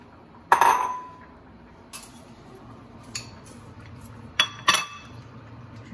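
Vegetables are dropped into a pot of coconut chicken, giving a few scattered clinks and clatters of a utensil against the cookware, faint and intermittent over quiet kitchen background.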